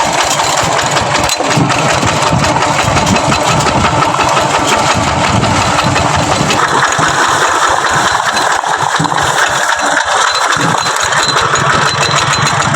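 A vehicle engine labours loudly in third gear on a rural farm road, a continuous close rumbling drone with uneven knocking pulses throughout and no talk.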